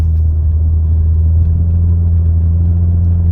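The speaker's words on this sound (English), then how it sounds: "The engine is sounding really nice as well." A 2013-2018 Nissan Altima engine drones at a low, steady rumble with a deep, slightly loud exhaust hum, heard from inside while cruising at constant speed.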